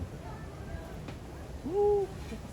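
An owl at a zoo in Tokyo gives one short, clear hoot in the middle, moderately close, over steady background hum and a low murmur of people.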